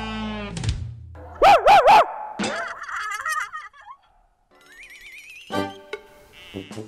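A man in a group of chatting family members imitates a dog, giving three loud, quick bark-like yelps in a row, with chatter before and after.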